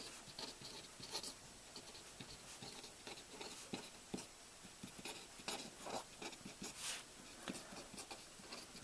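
Faint scratchy strokes of writing, likely pen on paper during a logic lesson, come in short irregular bursts at a quiet level.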